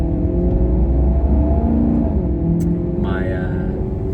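A deep, throaty naturally aspirated Maserati V8 in a GranTurismo MC idles loudly and steadily, then rises briefly in pitch as it revs near the end.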